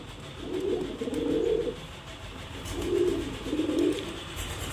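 A pair of Murshidabadi Giribaz pigeons, a male and a female, coo softly up close in two low, throaty bursts, each rising and falling twice.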